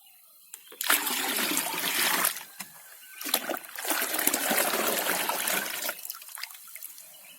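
Insecticide mixture being stirred in water for spraying tomato plants: two long bursts of sloshing, swirling liquid, close and fairly loud, separated by a short pause.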